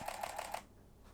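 A Canon camera takes a picture with a quick run of four sharp clicks and short beeps within half a second, close and fairly quiet, followed by near silence.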